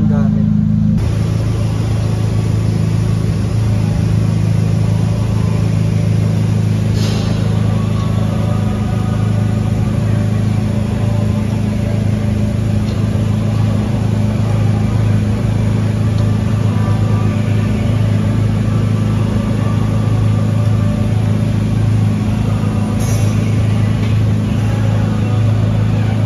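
A project car's engine idles steadily throughout, a constant low hum that sits close and loud, while speech runs over it for most of the clip.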